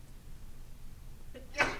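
A single short sneeze in a classroom during a math lecture, a brief burst near the end of a quiet stretch with low background hum.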